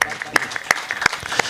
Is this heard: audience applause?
yes